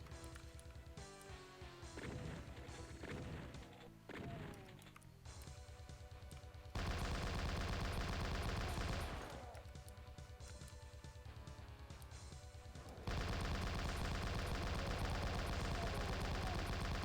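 Heavy automatic chain-gun fire from chaingunner enemies in a first-person shooter rattles in dense, continuous bursts, mixed with explosions and crashing impacts and growing louder toward the end.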